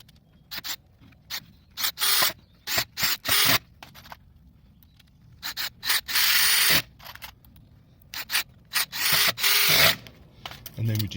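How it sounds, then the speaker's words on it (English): Screw being driven into a shed corner frame with a power driver, in repeated short bursts of whirring and ratcheting with gaps between, close and fairly loud. "and then screw that one in"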